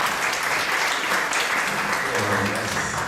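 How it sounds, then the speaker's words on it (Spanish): A crowd applauds steadily and loudly throughout at a Spanish-language public event, with faint voices mixed into the clapping. "Así que les pido un fuerte aplauso para todos."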